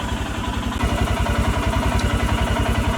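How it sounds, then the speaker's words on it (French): Shakti motorcycle engine idling steadily while warming up after months unused, a close, loud and even low thumping pulse with faint mechanical clatter throughout. "je vais chauffer le moteur un petit peu là"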